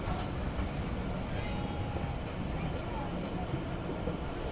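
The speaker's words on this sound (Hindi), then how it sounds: "प्लेटफॉर्म नंबर 4 पर अप्रोच बना रही है ट्रेन" The Jaffer Express, hauled by a Chinese locomotive, rolls toward a station platform in a continuous low rumble with faint rail clatter and a squeal, heard at a moderate distance under crowd noise and a talking voice.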